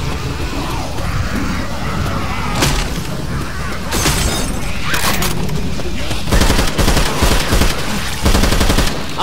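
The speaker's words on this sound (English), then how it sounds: "Spin him around and shoot him in the back." Gunfire in the co-op zombie shooter Left 4 Dead 2, loud bursts of rapid shots and sharp single cracks with crashing impacts, over steady game background noise.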